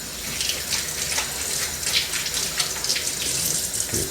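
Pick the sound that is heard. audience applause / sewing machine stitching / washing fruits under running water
washing fruits under running water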